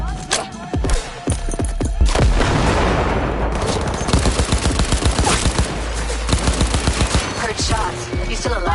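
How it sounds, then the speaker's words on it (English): Rapid bursts of gunfire in the video game Cyberpunk 2077, dense volleys of sharp shots firing repeatedly through most of the stretch, loud and close, with a brief voice mixed in. "Heard shots."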